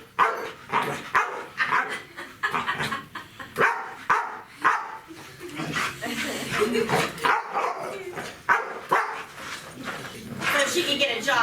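A pit bull barks fiercely on cue as a trick, a loud run of sharp repeated barks with a few whimpering yips, close by, and a person talks in between.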